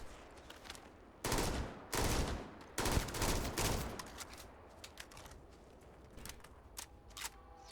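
A gun fires in Starfield, a sci-fi shooter game. Several loud bursts of rapid shots break up quieter stretches, and fainter scattered shots and clicks follow.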